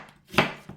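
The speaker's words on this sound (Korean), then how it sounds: "요거는 너무 가늘게 썰지는 마시고 이렇게 해서 약간 이렇게 굵게 좀 썰어주세요" A single firm knife chop through radish on a cutting board, cut thickly for kimchi, with a faint second tap afterward; close and alone, no talk.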